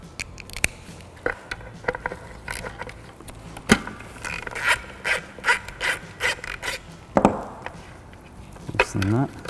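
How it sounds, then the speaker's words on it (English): Ratchet with a 10mm socket working loose a car horn nut: a series of short mechanical clicks and scraping bursts, close and moderately loud, with irregular pauses between strokes. "use a 10mm socket and a ratchet"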